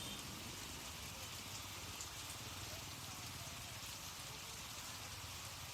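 Rain falls in a steady, even wash of fine patter, constant and moderately faint with no breaks, filling the background from start to finish.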